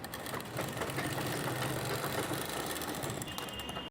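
Domestic sewing machine running steadily while stitching a double-folded fabric edge on a silk pavadai skirt, a continuous close mechanical whir with a fast even rhythm and no talking.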